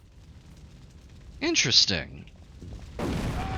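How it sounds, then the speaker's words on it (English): A sudden broadband blast from an explosion in the video game The Thing breaks out near the end and rumbles on. Someone briefly speaks just before it over faint game sounds. "So there is a second explosion there that you can get if you go fast enough."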